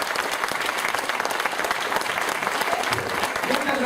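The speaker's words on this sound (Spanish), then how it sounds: "Dense un fuerte aplauso" An audience at a motivational event breaks into loud, sustained applause, dense clapping filling the room evenly from start to finish with crowd noise mixed in.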